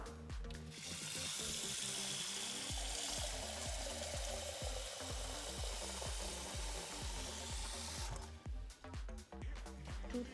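Water runs from a kitchen tap into a pot, a steady hiss that fills for about eight seconds before stopping, with rhythmic knocking underneath throughout.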